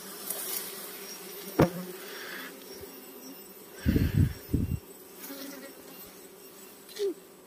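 Dwarf honey bees swarm around a large nest on a hilltop, heard from a short distance: a continuous buzzing hum interrupted by a sharp knock and a few loud rustling handling noises up close.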